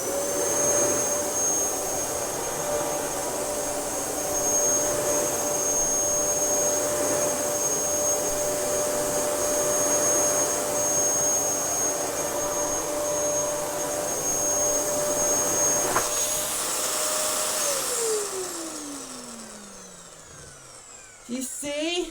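Dyson DC07 Animal upright vacuum cleaner running steadily with a loud, even motor whine and airflow roar, close by, then switching off and winding down near the end.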